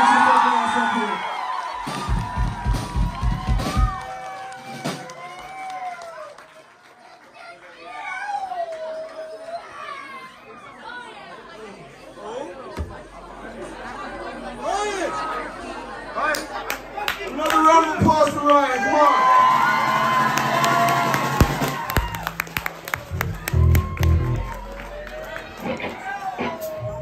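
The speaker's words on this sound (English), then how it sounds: "So give him a round of applause, please." Audience applause and cheering at an album release party concert, with clapping, whoops and crowd noise building loudly in waves over several seconds, mixed with voices and stretches of music.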